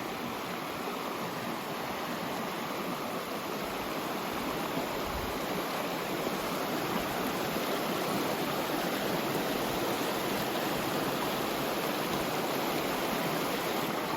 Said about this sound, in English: The creek is right here.